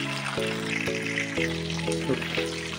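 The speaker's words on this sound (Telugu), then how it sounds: "ఒక 10 minutes వరకు మీడియం ఫ్లేమ్లోనే ఫ్రై చేసుకోండి" Chicken 65 pieces fry in hot oil over a medium flame, a steady dense sizzle and crackle with faint clinks and stirring knocks from a utensil recurring every second or so.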